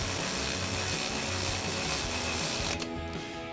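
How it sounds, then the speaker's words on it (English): Socket ratchet on a 10mm socket snugging suspension brackets on the knuckle of a 4WD Silverado 1500 during a lift kit install, a steady fast clicking pawl close up, continuous and alone, easing off near the end. "Now we'll go ahead and tighten down the brackets on our knuckle using our 10mm socket on our ratchet."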